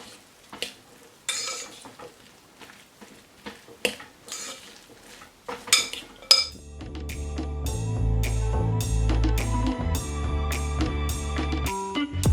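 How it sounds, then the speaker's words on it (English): A spoon stirs plant-based breakfast ingredients in a pan, giving a few scattered scrapes and clinks at first, then a steady sizzling hum as cooking carries on beneath continued stirring. "give it a nice good stir through, combine the ingredients"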